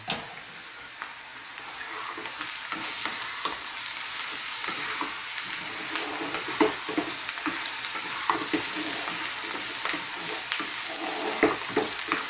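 Potato korma spices with Kashmiri chili powder fry in a pan over medium-high heat, giving a steady, close sizzle with scraping stirs throughout and no talking.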